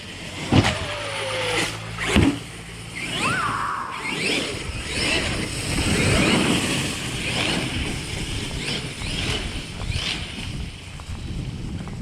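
A Traxxas X-Maxx RC truck with a Hobbywing Max5 system drives, its electric motor whining up and down in repeated bursts with sharp thumps from landings and wind noise.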